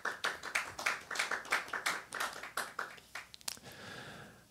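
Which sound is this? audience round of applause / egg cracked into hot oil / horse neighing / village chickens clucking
audience round of applause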